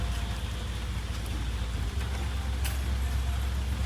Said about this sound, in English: Raining real bad.